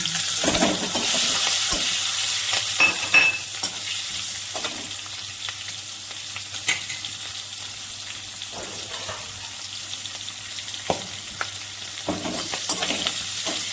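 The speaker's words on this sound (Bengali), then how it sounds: "তেজপাতা, কালো জিরে, তারপরে গোটা চেরা কাঁচা লঙ্কা দিয়ে দিন।" Bay leaf, nigella seeds and slit green chillies sizzle in hot oil with stirring, a steady frying hiss broken by scraping clinks of the spoon, close and moderately loud with no talking.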